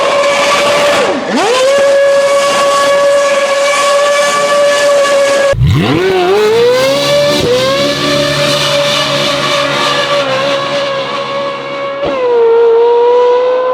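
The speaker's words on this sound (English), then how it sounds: "we're gonna do a launch and we're gonna compare it to an F1 car, like an actual 2008 F1 car doing a donut." Ferrari 458 with a titanium exhaust and free-flow front pipes, compared with a 2008 Formula 1 car doing a donut: a loud, sustained high-pitched engine scream with a sharp drop and steep rising rev sweep midway, continuous throughout.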